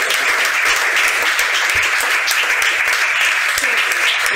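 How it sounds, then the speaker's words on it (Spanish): A live audience bursts into loud, sustained applause, dense continuous clapping that stays strong and even throughout with no voices on top. "¡Pedimos un aplauso!"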